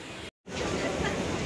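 A Kolkata circular rail train running past Patipukur station, heard from on board as a loud, steady roar of wheels and wind. A brief cut drops to silence before the rumble resumes.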